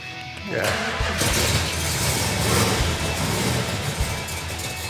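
A Plymouth Cuda V8 engine cranks and fires, then settles into a loud, rough, rumbling run close by.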